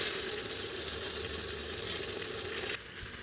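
Mutton pulao frying in a pan, a steady close sizzle with faint stirring and a brief metallic clink near the end, no voices.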